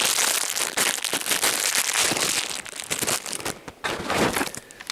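A small plastic packet of diodes being cut open during a power supply repair: close, loud crinkling and crackling with sharp snips and rustles in quick irregular bursts, and no talking.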